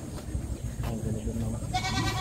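A Black Bower goat on a farm gives a short, nasal bleat close by, with people talking in the background.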